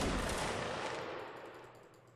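A musket line volley fires in a Napoleonic Wars video game battle: one loud, broad crack right at the start, then a long rolling decay as the massed shots fade out, with no voices.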